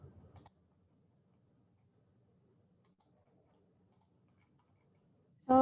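A computer mouse gives a short burst of clicks at the start while a user searches Autodesk raster design file formats. A quiet stretch follows, and a louder sound comes in at the very end.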